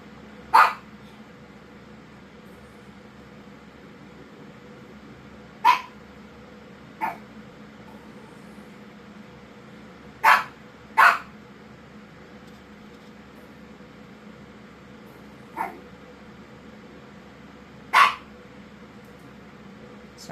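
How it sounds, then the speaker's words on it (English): A dog barks in single sharp, distant-sounding woofs at irregular intervals, about eight over twenty seconds, against a faint steady background hum with no talk. "Sorry about the dog barking."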